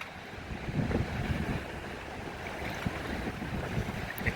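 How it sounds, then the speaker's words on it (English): Wind gusting over a boat lying at anchor, a steady broad rush with faint water lapping and small creaks underneath, close to the microphone and without speech. "There's a wind gust."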